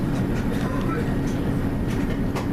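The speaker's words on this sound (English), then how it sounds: "Had to make an unexpected train change onto a pair of class 153s or class 155s." Interior rumble of a British Rail class 153 or 155 diesel train running near Nottingham, a steady loud low drone with faint rhythmic clatter and a voice speaking over it.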